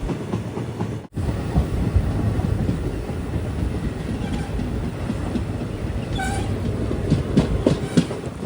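A passenger train on the Tirunelveli to Kanniyakumari line rolls along, heard from on board as a steady, loud rumble with rhythmic clickety-clack of the wheels throughout.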